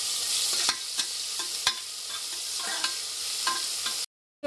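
Onions fry in oil in a pressure cooker, a steady loud sizzle broken by sharp scraping clinks of a spoon stirring, ending in a brief silence before a last clatter.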